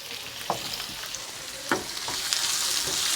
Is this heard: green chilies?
yes